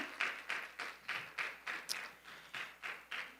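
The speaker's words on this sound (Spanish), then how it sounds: "Este aplauso fuerte, fuerte es para ti." A church congregation claps in a rhythmic, evenly spaced beat, about three claps a second, sounding fairly faint and distant with no talk over it.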